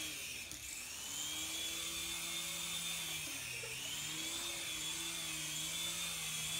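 Continuous whirring drone of a helicopter with a wavering pitch, fairly faint and steady throughout, no talking over it.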